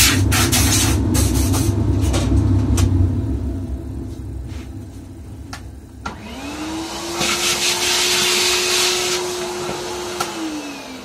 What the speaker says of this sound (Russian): Бункеры чистим либо пылесосом, либо на станции, кому как удобно.